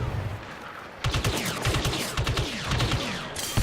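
Rapid bursts of three-round gunfire in the multiplayer shooter Star Wars Battlefront 2, loud and close, repeating in quick clusters over a constant battle din.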